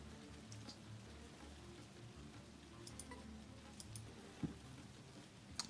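Steady, soft rain patters down in the procedurally generated dungeon crawler Crawl Tactics, a faint even hiss with a few light ticks and drops near the end and no talking.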